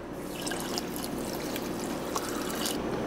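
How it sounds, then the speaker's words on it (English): Water poured over coffee grounds trickles and drips through a paper filter with a steady, faint, close liquid patter and no talking. "Let's dump the rest of the water in here."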